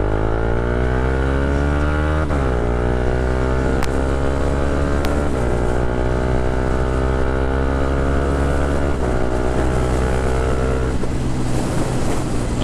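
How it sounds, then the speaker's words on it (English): A 2015 Honda CB300F with an aftermarket quick shifter accelerates hard, its engine rising and dropping through several quick upshifts in a loud, continuous run that is close to the listener. "So let's get an acceleration test with the quick shifter."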